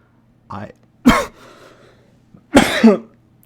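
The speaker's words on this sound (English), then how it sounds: "I don't know where that cough came from" A person streaming a fighting game match analysis coughs a few times in short bursts, close to the microphone, with a faint breathy pause between them.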